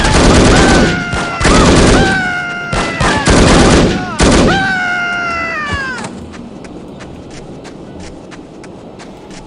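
Rapid bursts of AK-47 rifle fire in the video game No One Lives Forever, loud, close and broken into several short volleys, with whining, meow-like sweeps riding between shots before fading into a quieter tail.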